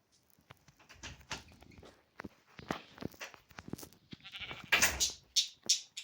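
Minecraft sheep bleating mixed with scuffling footsteps and pattering, several calls in quick succession, close and fairly loud.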